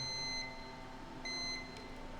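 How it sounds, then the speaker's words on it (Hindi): A UNI-T 204 Plus clamp meter set to continuity gives two clear, steady high-pitched beeps as its probes touch, each lasting about a third of a second, separated by a short pause over a quiet background hum. "तो हमें बीप सुनाई देगी"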